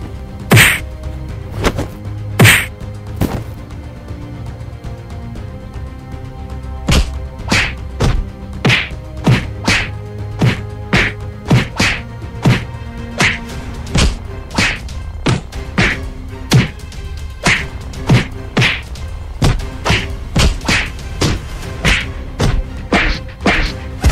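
Repeated hard thwacks and thuds land in a steady, rapid series of blows, loud and close, with scuffling between strikes.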